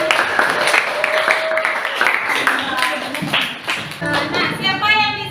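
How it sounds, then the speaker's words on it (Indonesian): Classroom applause for classmates during a school lesson, a brisk burst of many small hands clapping close by, tapering as the teacher's voice and other talk come through near the end. "Jadi tepuk tangan buat teman-teman."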